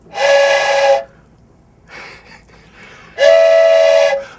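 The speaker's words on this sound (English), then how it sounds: "It is a train whistle." A toy train whistle is blown twice, each a loud steady two-second hoot, with a short soft breathy puff in between.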